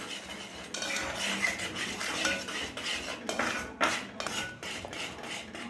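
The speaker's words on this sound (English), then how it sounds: "Keep stirring, keep stirring." Milk thickening for custard stirred in a pan, a continuous close scraping and clinking of a spoon against metal with a few louder knocks, steady and busy throughout.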